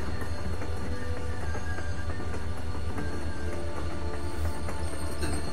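Train rolling in The Walking Dead video game, a continuous loud rumble with metallic clatter and repeated rhythmic clicks of wheels on track, steady throughout with no speech.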